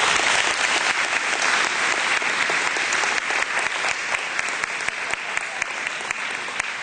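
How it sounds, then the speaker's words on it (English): Sustained audience applause at a chamber of commerce gala, a dense, even wash of many hands clapping throughout, loud and close with no voices over it. "I'll give them a round of applause"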